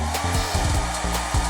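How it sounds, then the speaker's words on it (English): A hairdryer blows in a video game, a loud, steady whooshing hum that runs throughout the short moment with faint uneven tonal wobbles underneath. "Ooh, a hairdryer."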